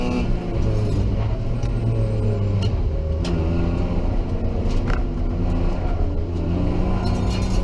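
Racing cars, including a Ford XR8, at the Hampton Downs circuit in an improved production car race produce a loud, continuous engine roar with rising and falling revs throughout.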